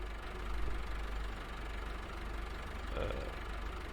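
Tractor engine idling steadily in Farming Simulator 15, a low continuous rumble with slight swells, no talk over it.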